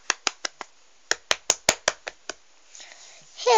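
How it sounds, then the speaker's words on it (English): A few sparse, close hand claps for a playful round of applause at home, coming in two short bursts with a gap between, followed by faint rustling and a brief voice. "Give a round of applause."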